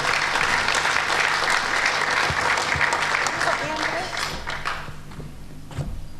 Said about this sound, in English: Here she is, to a tremendous round of applause.